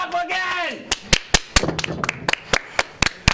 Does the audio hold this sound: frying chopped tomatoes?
no